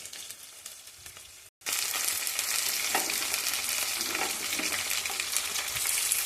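Spinach and egg frying in a pan give a loud, continuous sizzle that drops out for a brief instant and then comes back strong, with occasional scrapes from stirring.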